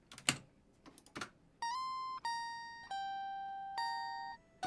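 Electric guitar lead pitched up an octave in a music production session: a few clicky taps lead into a thin, bright melody of four sustained notes that ring and fade in turn, heard alone with no talk.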